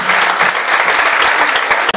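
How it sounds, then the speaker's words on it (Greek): An audience applauds loudly and steadily before a Pontic Greek theatre performance staged by a Pontic cultural association, a dense continuous clapping from many hands. "Παρακαλώ λίγο να τους εμψυχώσουμε με το χειροκρότημα."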